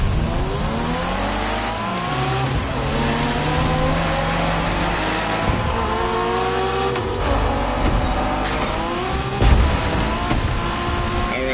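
Car engine revving and racing in The Crew Motorfest during a Japanese street race, loud rising and falling engine pitch with gear shifts, continuous and close, with no talk.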